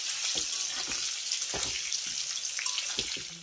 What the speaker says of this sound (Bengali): এবার আলুটাকে আমি খুব সুন্দর করে একেবারে লাল করে ভেজে নেব।